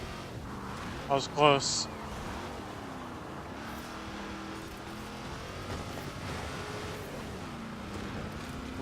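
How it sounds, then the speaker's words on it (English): An off-road truck in a video game keeps up a continuous engine and exhaust drone with gently rising and falling revs, while someone talks briefly early on. "I love the exhaust of the trucks in this game."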